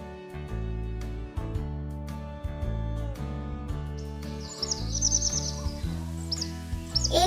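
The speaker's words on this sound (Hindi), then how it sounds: "तभी ऊपर आसमान में चिड़ियों का एक झुंड जा रहा था।" Cartoon flock of birds chirping high overhead, a cluster of bright tweets rising over a steady musical score in the second half, fairly clear and not under any talk.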